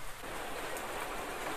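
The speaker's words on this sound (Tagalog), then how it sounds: "Sobrang lakas ng ulan." Heavy rain in a Doraemon cartoon, a dense, even hiss of downpour pouring steadily and loudly without pause, with no voices.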